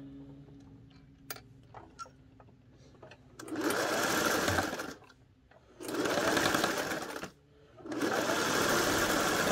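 A household sewing machine stitches a clean finished edge on a pillow in three loud, whirring bursts separated by short pauses, after a quieter stretch of light clicks and handling.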